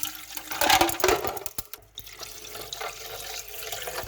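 Tap water pours into a bowl of ice for a tanghulu ice bath, a steady running splash that surges early then settles into a softer continuous flow.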